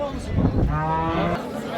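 A large hybrid cow at the Kitob livestock market lets out one loud, close, drawn-out moo lasting about a second, with faint market chatter and bustle underneath.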